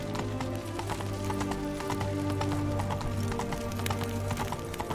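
Roach, a horse in the video game The Witcher 3, gallops with a steady, loud clip-clop of hooves over a constant low game soundtrack drone, with a brief whinny-like call mixed in.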